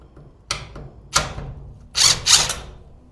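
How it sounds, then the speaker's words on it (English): A ratchet with an 11 mm metric socket loosens the roller bolts on a garage door, giving a few sharp clicking bursts separated by short pauses, close and fairly loud. "let's go ahead and undo these bolts. This is an 11 millimeter, by the way"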